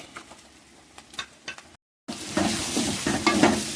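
Meat and onions sauté in a pan, quiet scraping and stirring at first, then after a brief silence a louder, dense sizzle with spoon scrapes, close up and without speech.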